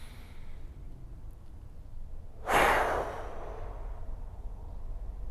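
Deep breathing during a golf stretch routine, one long audible exhale through the mouth at close range, swelling briefly then fading into quiet room tone.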